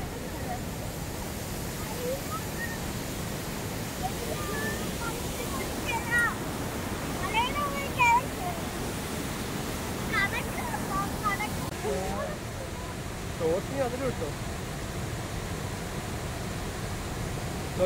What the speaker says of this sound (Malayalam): നോക്കിയേ വെള്ളം വന്ന് വീഴുന്നത് കണ്ടോ